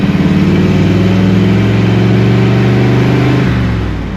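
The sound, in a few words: loud V8 engine of a classic stock hot rod accelerating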